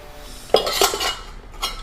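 Someone handles a 1.5-litre pressure cooker and kitchen utensils while packing luggage, producing a few close metallic clinks and clatters of pots and cutlery in a short burst, with no talking.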